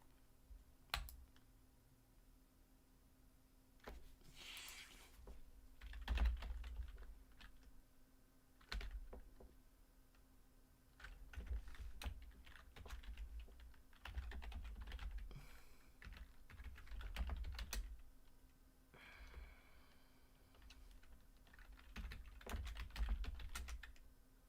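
Someone types a Discord password on a computer keyboard, with quiet bursts of key clicks and presses arriving in irregular clusters over a faint background hum, no talk.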